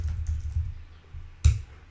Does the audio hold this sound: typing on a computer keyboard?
yes